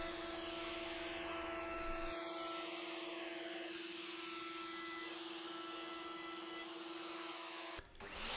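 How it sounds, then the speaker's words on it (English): A router chamfers the edges of 6mm MDF strips, giving a steady high motor whine with a rough rasping cut that lightens partway through, then a brief drop as the cut ends. "Chamfer all the edges in the router."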